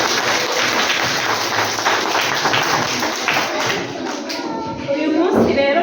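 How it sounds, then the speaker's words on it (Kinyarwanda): Teachers and children clap for visiting guests in a sustained round of applause, dense and fairly loud, with voices mixed in and a brief dip before the clapping swells again. "Abarezi n'abana bamfashe tubaha amashyi"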